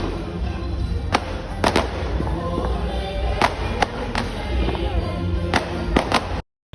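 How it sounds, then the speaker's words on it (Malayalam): Fireworks go off during a church festival procession in Kerala: a series of sharp, loud bangs at irregular intervals, some in quick pairs, over constant crowd and outdoor noise. "റാസ വന്നപ്പോൾ വെടിക്കെട്ടുണ്ടായിരുന്നു."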